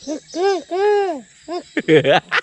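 A person imitates a turtle dove's call, cooing in a few rounded hoots with pauses between, close and clear, ending with quicker voiced bursts.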